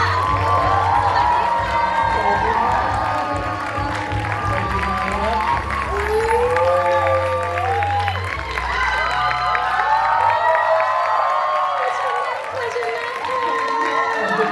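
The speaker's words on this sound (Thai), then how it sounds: "ขอเสียงปรบมือต้อนรับ Artist Manager แห่ง Lit Entertainment" Fans cheering at a debut event for a new girl group: a loud, constant crowd roar with high excited shrieks and whoops over clapping, and continuous chatter running beneath.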